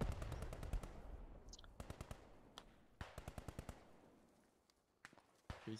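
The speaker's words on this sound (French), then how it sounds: "Ça tire, ça tire, ça tire." Bursts of rapid automatic machine-gun fire in the WWII shooter game Post Scriptum, several short volleys spaced a few seconds apart at moderate distance, with a faint high whine in between.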